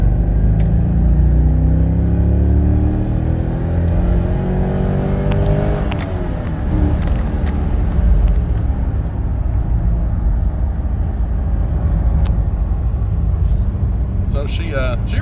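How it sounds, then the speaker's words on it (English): A 22-year-old C5 Corvette pulls hard through second gear, its engine note climbing loudly and steadily before easing off partway through, heard from inside the car with a person talking over the rumble. "We'll do a little second gear pull here."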